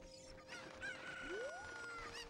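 Chirpy synthetic clucking and a rising squawk from a cuckoo chicken in Zelda: Ocarina of Time, a short burst of game bird calls over steady background music, no talking.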